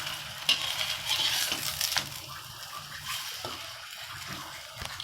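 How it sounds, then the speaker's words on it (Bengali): A spinach paratha frying in ghee in a frying pan, giving a gentle, steady sizzle with a few soft stirring or pressing sounds, close and moderately quiet. "আমি একটু ঘি দিয়ে ভেজে নিলাম।"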